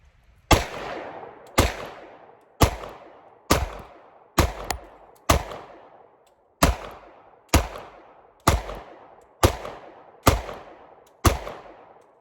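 Eleven sharp pistol shots from a custom Sig P365 firing HST hollow point rounds, fired one at a time at an even, unhurried pace, each loud crack followed by a short echoing decay, with no speech.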